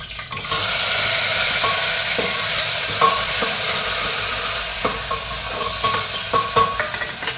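Finely chopped onion and tomato sauté in a pan with asafoetida, a loud steady sizzle with scraping stirs and soft clacks toward the end, no talking.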